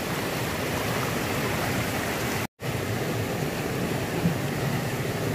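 Moss gathered from a mountain stream is rinsed clean in running stream water at a campsite. The water rushes steadily and close up, with one brief break partway through and no voices.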